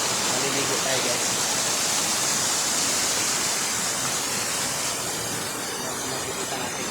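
A small waterfall on the Malangsa River rushes in a steady, loud broadband hiss, close by and unbroken throughout.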